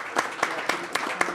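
A few people at a city council meeting clap in a slow, sparse rhythm, about five distinct claps spaced evenly, fairly close and soft, with quiet voices in the background.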